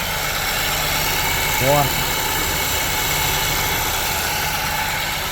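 An Audi Q3 in limp mode with a jammed throttle body runs at a steady, loud idle with a constant drone, while a voice speaks briefly.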